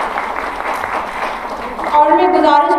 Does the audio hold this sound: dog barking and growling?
no